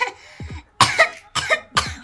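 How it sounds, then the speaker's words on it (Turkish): Three sharp coughs close by, evenly spaced, preceded by a brief breathy sound. "Öksür bakalım."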